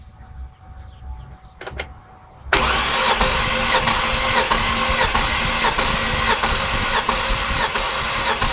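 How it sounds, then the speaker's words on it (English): After a quiet start with a couple of short clicks, a GMC Envoy six-cylinder engine cranks during a compression test, a loud, sustained, rhythmic churning that runs to the end. "I'm going to go crank the engine and let's watch the gauge."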